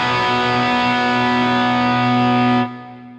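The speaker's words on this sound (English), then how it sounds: "I'm going to start with an overdriven tone," An overdriven electric guitar tone from a guitar plugin, a single sustained distorted chord ringing thick and loud for over two seconds before being choked off, with a faint low hum remaining.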